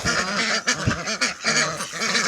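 Ducks quack in a loud, close, rapid overlapping series on a farm where cats are also kept, the harsh honking calls tumbling over one another with no talk.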